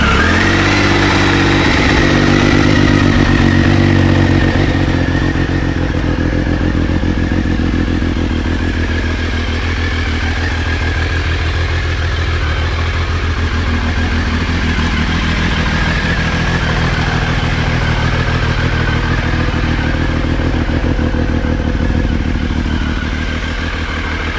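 A 2000 Triumph Sprint RS 955i motorcycle engine fires up and runs loudly nearby, settling into a steady, throbbing idle with mechanical clatter that holds evenly throughout.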